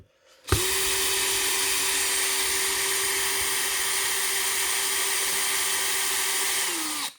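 A power drill runs in one long, steady whine for about six and a half seconds, driving screws into a Funtek STX RC car chassis. It starts abruptly, holds a constant pitch close by, then winds down at the end.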